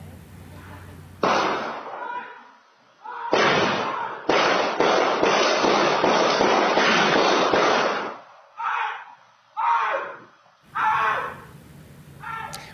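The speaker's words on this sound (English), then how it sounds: "it picked up the audio of the sound of gunshots" Gunshots picked up by a surveillance camera near Woodbine Beach at night, a string of loud sharp bangs coming in clustered bursts, then a few separate shots trailing off, with voices faintly in the background.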